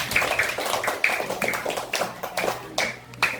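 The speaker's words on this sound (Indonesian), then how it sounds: "Beri tepuk tangan untuk kelompok 1." Primary-school class applauding a student group, a short spell of quick, uneven hand clapping from several children in a classroom at moderate loudness.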